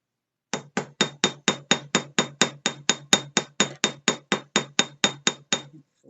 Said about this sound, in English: Now I'm going to take my rivet hammer